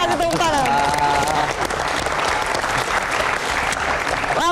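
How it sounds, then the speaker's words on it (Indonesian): A studio audience breaks into loud, sustained applause on a television talk show about the Jakarta regional election, with a voice briefly speaking over the start of the clapping. "Kita kasih tepuk tangan."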